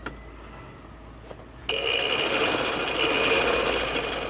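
A sewing machine starts up partway through and runs in one steady, continuous whir while stitching a gents shalwar, fairly close and alone after a quiet opening.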